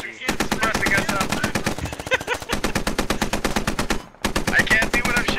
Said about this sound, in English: I can't see what I'm shooting, but I'm shooting from the tree.